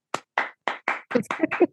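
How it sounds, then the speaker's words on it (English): Several hand claps from one person, close and fairly loud, spaced irregularly at first and then quickening into a short burst, with no voices over them. "Someone is clapping for me."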